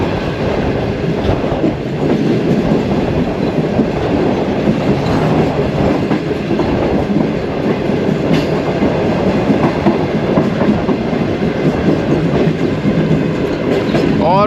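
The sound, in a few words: Shalimar Express train running on the rails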